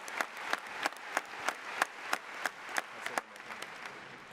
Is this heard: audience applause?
yes